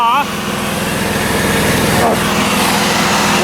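A generator engine runs steadily under load while an air compressor draws power from it, holding a loud, even drone with a buzzing, mower-like tone that stays close and constant throughout.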